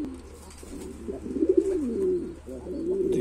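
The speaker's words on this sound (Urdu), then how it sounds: "دیکھو بھائی یہ کبوتر جو ہے یہ کھانا" Pigeon cooing up close, from a hungry Kashmiri pigeon that cannot pick up its grain; a run of soft, throaty rolling coos rises and falls over about three seconds, heard alone.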